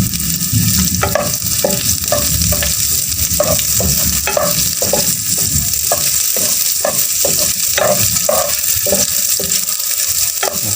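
Chopped garlic and onion sauté in a pan for pork giniling sotanghon soup, a loud continuous sizzle broken by rapid, regular scraping strokes of a spatula, with no voices.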